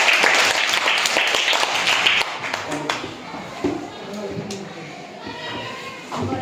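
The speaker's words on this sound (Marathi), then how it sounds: "सगळ्यांनी टाळ्या" At a primary school quiz, a group gives brisk applause for a correct answer, loud at first, then fading into talk and murmuring.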